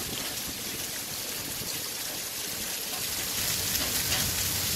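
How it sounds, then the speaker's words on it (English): Heavy rain pours down in a dense, continuous hiss that grows slightly louder near the end, with no voices. "Now it's just rain."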